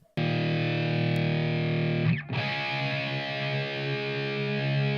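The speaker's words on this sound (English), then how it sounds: "Sounds nice. Sounds like a good rock guitar." An unmixed electric rock guitar recorded with effects rings out in sustained, distorted chords, with a brief scrape or chord change midway before the thick, steady drone resumes.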